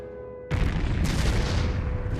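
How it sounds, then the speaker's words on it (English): Artillery shelling buildings arrives as a sudden deep boom that turns into a loud, sustained roar of blasts and rumble, set against a low drone. "2 days later, our artillery opened on the buildings"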